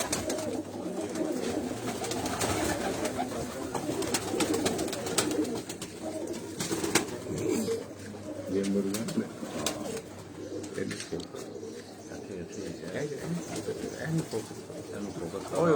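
Breeder pigeons coo softly and repeatedly inside a cage, overlapping low throaty calls that continue throughout, with someone talking over them and some rustling and handling noise nearby.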